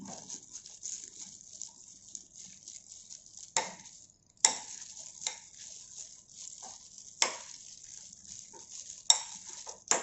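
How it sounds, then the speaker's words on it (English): French fries seasoned with pepper and salt and stirred in a bowl, giving soft rustling and scraping with several sharp clinks of a utensil against the dish, close and fairly quiet. "Now we need pepper and salt. Then mix it up."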